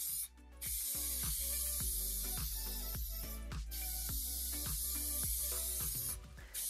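A clear coat spray can hisses steadily onto a wooden radio cabinet in long, close bursts, with brief pauses between passes and a faint rhythmic clicking under the spray.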